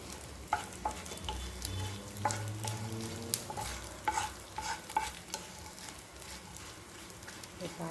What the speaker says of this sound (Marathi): मी डिंक हा थोडासा फोडून घेतलेला होता त्याच्यामुळे लवकर असा तळला जातो